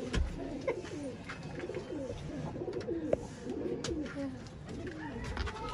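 Desi pigeons in a Ludhiana loft give off a steady chorus of low, overlapping coos for several seconds, with a sharp tap or two and faint background voices mixed in.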